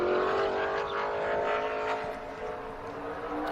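A race truck engine runs steadily at a loud, rough, droning pitch throughout, with no voices.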